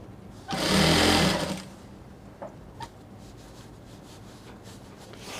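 A sewing machine stitches a belt for a wrap crop top in one loud, fast burst of about a second, followed by quiet with a couple of small clicks and handling sounds.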